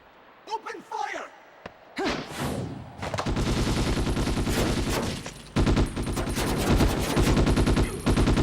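Rapid bursts of video-game gunfire fill most of the stretch, loud and dense with sustained automatic fire and single shots, following a brief spoken exclamation at the start.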